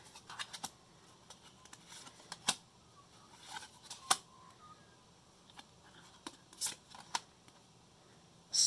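Digimon trading cards being handled and shuffled, quiet close riffling and scattered soft clicks and flicks at irregular intervals, with a louder snap near the end.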